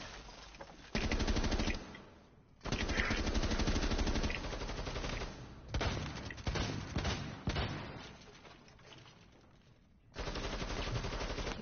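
Gunfire in Rainbow Six Siege: loud, sustained bursts of rapid automatic fire, broken by a few brief pauses and quieter dips before shooting resumes.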